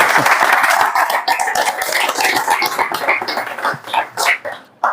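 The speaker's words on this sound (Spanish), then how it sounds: "Un fuerte aplauso." An audience at a bookshop book presentation claps loudly at first, then the applause thins into scattered claps that fade out near the end.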